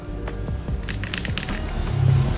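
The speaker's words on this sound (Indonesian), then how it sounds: "kita tinggal mencet tombol enter aja di keyboard" Keys tap on a computer keyboard in a series of light, close clicks, followed by a brief louder burst of keystrokes. A low steady hum sits underneath.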